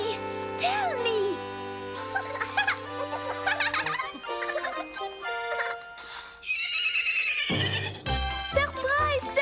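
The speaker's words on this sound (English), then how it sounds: "We have brought this lovely horse just for you." A horse neighs with a high, wavering whinny amid cartoon-style sound effects, jingling and clip-clopping hooves, with voices speaking around it.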